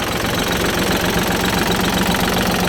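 A Kubota L3608 tractor engine runs loud and close at a steady idle-like drone while its front blade is raised and lowered, with no talking.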